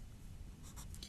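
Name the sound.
writing a number down by hand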